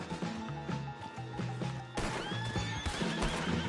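A horse neighs and whinnies in Red Dead Redemption 2 amid clip-clopping hooves and a crash, loud and close over steady game background sound.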